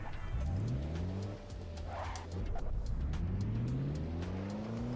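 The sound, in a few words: racing car engine in the video game Assetto Corsa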